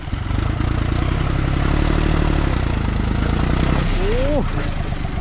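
A three-cylinder engine without a turbo idles and revs, a steady low rumble with clattering texture, then a quick rising rev near the end; loud and close.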